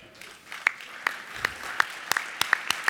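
An audience at a coffee association opening ceremony claps, starting as sparse, separate claps and building into scattered applause with a murmur of voices underneath.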